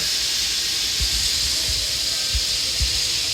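A rebuilt Kelly Duplex 3-ton mixer running, heard from up on top near its gearbox and roller-chain drive: a steady hissing mechanical drone with soft low thumps recurring irregularly underneath.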